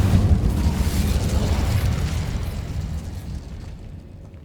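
A fiery Incendio spell is cast in Hogwarts Legacy: a loud, broad whooshing burst of flame with a deep rumble that starts strong and slowly fades over a few seconds, with no voices.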